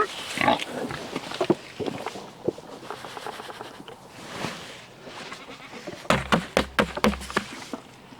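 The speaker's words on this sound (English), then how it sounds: "And now the big pigs." Big pigs on a small farm grunt and snort in a burst near the start, then several loud, close grunts come in a rapid cluster toward the end, with quieter snuffling and shuffling in between.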